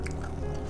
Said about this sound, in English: You could hear me chewing on the nurangji.